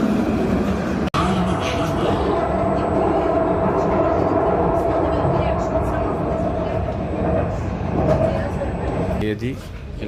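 A Dubai tram rolls along its rails with a steady rumble and hum, a sharp click near the start, and a voice speaking over the ride.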